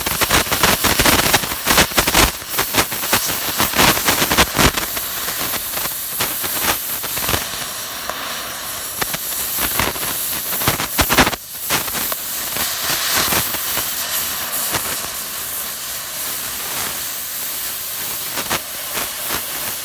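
An oxy-acetylene or LPG gas cutting torch roars with a loud, constant hiss as it cuts through steel plate, its harsh rushing noise filling the whole stretch with crackling spits and small surges and no pause.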